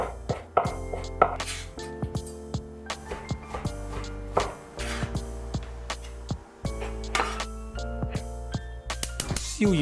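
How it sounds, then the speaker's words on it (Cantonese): Fatty pork being chopped into small pieces with a knife on a board, close, crisp repeated chops in uneven bursts and short pauses, without any voices. "之後呢，再切埋啲肥豬肉，"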